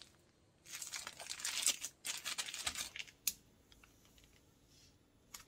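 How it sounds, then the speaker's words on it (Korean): Crinkly rustling and clicking of a double zipper bag being pressed shut over blanched mugwort, a dense burst of plastic crackle and snaps lasting a few seconds, then a few scattered clicks fading to quiet. "공기가 들어가지 않게 이중 지퍼백을 꼭 닫아주세요"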